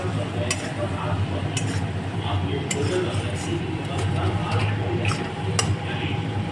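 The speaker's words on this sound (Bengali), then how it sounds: "এবার গোটা রসুনটা দিয়ে দেবো।" Whole garlic tumbles into a pan for egg tihari with a few sharp metallic clinks and scraping stirs of a utensil against the pan, over continuous kitchen clatter and a voice in the background.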